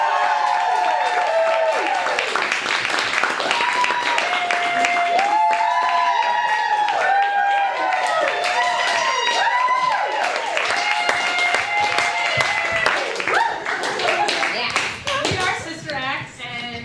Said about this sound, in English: let's give a big round of applause for Sister Act